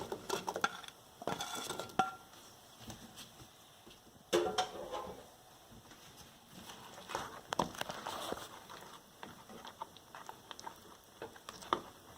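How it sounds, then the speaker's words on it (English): Fried paneer for mutter paneer tipped into a pot of gravy and stirred, with soft clinks of a spoon on the pot and wet patter, fairly quiet and intermittent. "Now I'm going to add the paneer that we fried earlier"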